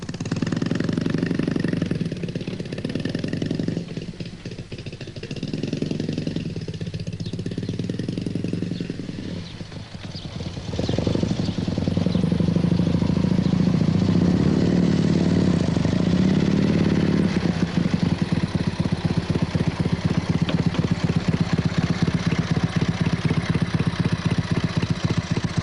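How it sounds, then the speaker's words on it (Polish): A motorbike with a home-built sidecar runs loud and close, its engine chugging unevenly at first, then settling into a sustained, heavier throbbing drone that continues steadily to the end. "He bought the motorbike and constructed the sidecar."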